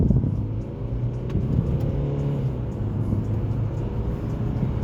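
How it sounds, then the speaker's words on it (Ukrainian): A Mercedes C220d W205 diesel car accelerates on the road, its engine droning low and steady from inside the cabin with a rising rumble and no talk. "От, Можемо бачити вже зараз, що от набираємо розгін, дамо трошки тапку."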